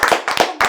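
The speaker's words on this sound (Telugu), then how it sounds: "క్లాప్స్ కొట్టండి రా" A few people clapping together at a cheerful interview, three short bursts of sharp, close hand claps in quick succession.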